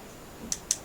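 Two short, crisp keypad beeps from a Midland G9 Pro dual-band PMR walkie-talkie sound about 0.2 seconds apart over a quiet, faintly hissing background.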